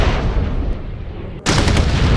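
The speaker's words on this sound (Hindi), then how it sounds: "तभी दुश्मन ने एक ग्रेनेड उनकी तरफ फेंका।" Loud, dense burst of gunfire and explosive blasts in a battle scene, with a grenade thrown toward soldiers; a brief drop near the middle, then a renewed roaring blast that continues to the end.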